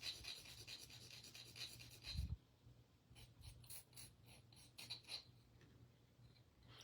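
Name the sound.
knife sharpener filing the ends of earring wires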